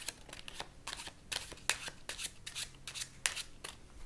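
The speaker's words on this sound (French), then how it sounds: "Et tu vas mélanger le jeu." A deck of playing cards is shuffled repeatedly during a card magic trick, giving a series of quick riffling bursts and soft slaps in an uneven rhythm, close and fairly quiet with no talking.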